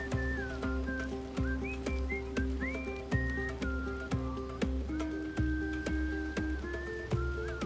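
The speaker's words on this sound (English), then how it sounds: "I didn't know he would join in with the whistling" In Baldur's Gate 3, a non-player character whistles a melody along with instrumental music, which is plucked in regular rhythmic beats. The tune is clear and sustained above the steady accompaniment.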